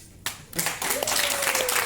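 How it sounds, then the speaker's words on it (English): An audience claps for a volunteer in a brief, moderately loud burst of applause that swells after a short pause and continues to the end. "One applause for Sagit."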